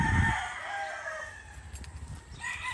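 Roosters crow nearby at a farm where the chickens are kept under lights, a loud bright call opening the clip and fainter crowing and clucking following, with no talk.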